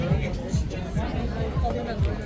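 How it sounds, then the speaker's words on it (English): Crowd chatter around Chef Ravi's sweet meat stall at an outdoor Diwali celebration at Kitty Roundabout in Georgetown, Guyana, a dense murmur of many voices with low rhythmic thuds underneath, close and continuous. "Everybody is crowded right here at Chef Ravi."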